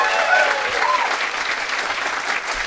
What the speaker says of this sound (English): can we get a round of applause for Zoran Mamdani?